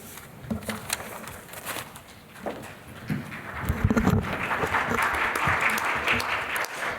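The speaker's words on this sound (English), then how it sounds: "Solo applause, well done." Applause from an audience at a talk on LGBTQIA+ belonging, beginning as scattered sparse claps and swelling into a steadier, fuller round of clapping that continues to the end.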